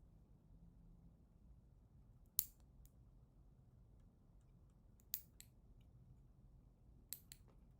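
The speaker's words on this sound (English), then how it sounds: "I'm going to finish trimming my nails first" Fingernails being clipped with sharp snips, three isolated clicks spaced a few seconds apart over a quiet background hum, close and fairly faint.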